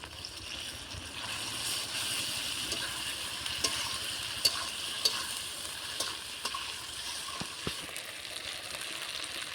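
Onion, tomato, ginger and garlic frying in a pan, with a steady soft sizzle throughout and occasional faint clicks of stirring, no voices.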